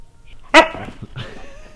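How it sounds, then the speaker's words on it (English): A husky gives a short, whiny yip-bark followed by warbling, talk-like vocal sounds, close up with a bit of faint room noise and no human speech. "So you will hear Huskies trying to make these like talking noises, kind of like that sort of thing."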